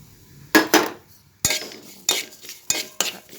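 Sesame seeds tipped into a pan of roasting peanuts, followed by several sharp metal spatula scrapes and stirs in short bursts, close and fairly loud.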